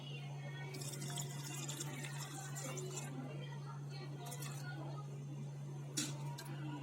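Milk pours quietly into a mixer jar holding bananas, a soft continuous liquid trickle at low volume for a banana milkshake.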